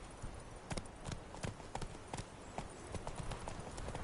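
Roach the horse gallops in The Witcher 3, a quick run of distinct, evenly spaced hoof clops close up and fairly loud, with no talking over them.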